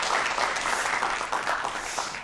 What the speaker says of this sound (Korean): 장경윤 교수님께 다시 한번 큰 박수 보내주세요.